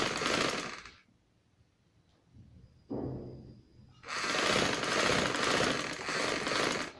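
A sewing machine stitches a bridal maxi dress in rapid, loud mechanical bursts with a pause in the middle, where a short whir and faint clicks are heard before the stitching starts again.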